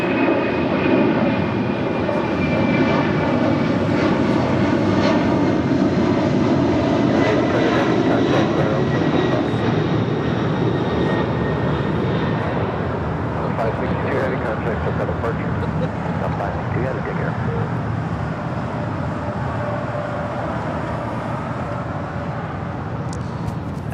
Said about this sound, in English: SAS, the A350 coming in from Copenhagen